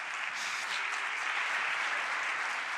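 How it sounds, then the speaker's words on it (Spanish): Steady applause from an audience at a round-table event, an even, continuous patter of clapping heard at a moderate distance with no gaps. "después de los aplausos, por favor"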